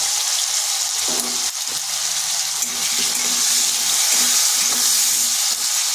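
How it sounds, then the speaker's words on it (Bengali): Potatoes seasoned with a little turmeric and salt fry in a pan for a vegetarian cabbage dish, a loud, continuous close sizzle broken by the scrape and clatter of repeated stirring. "আলুটাকে বেশ কিছুক্ষণ এভাবে নাড়াচাড়া করে নেব"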